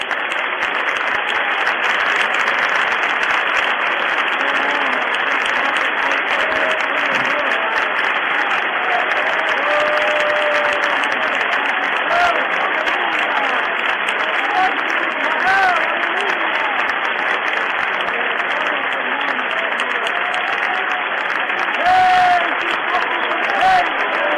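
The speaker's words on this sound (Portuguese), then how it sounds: "um lindo e demorado aplauso do teu povo" A church congregation gives long, sustained applause, a dense and steady wall of clapping that stays loud and unbroken throughout with no voices standing out.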